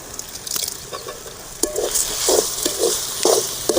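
Stirring and sizzling as mango is sautéed in a pan, with soft scraping strokes and light frying crackle at close range, no voices.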